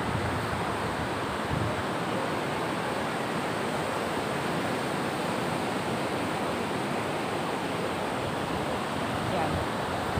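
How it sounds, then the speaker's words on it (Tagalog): Big sea waves surge and wash sand away during a strong southwest monsoon storm, a dense continuous roar of surf blended with wind buffeting the microphone, with no breaks. "Pumos ang buhangin sa ilalim. Gawa ng alon. Sobrang laki ng alon."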